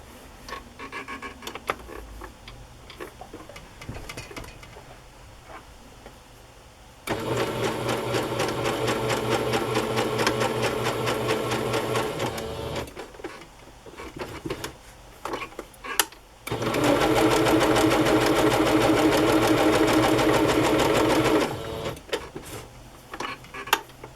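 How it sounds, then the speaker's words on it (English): A sewing machine stitches all around a journal cover in two long, even bursts of rapid mechanical whirring, with quiet handling and rustling noises in the pauses between runs. "So I'm going to stitch all around."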